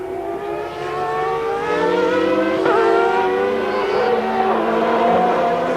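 Formula One cars of 1995, a Williams chasing Schumacher's Benetton, scream past with rising and falling engine pitch, a steady loud wail of revving engines carried over under a commentator's voice.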